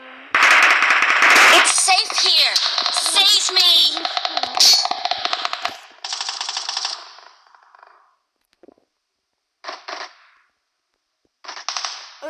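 A video game firefight: rapid machine-gun bursts clatter loudly for several seconds, then shorter separate volleys follow after brief pauses. Voices come through now and then.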